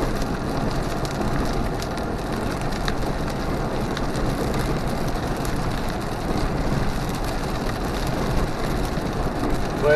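Steady rain drums on a car windshield during a drive near Truman Lake, a dense continuous patter close to the mic with faint road rumble underneath and no voices.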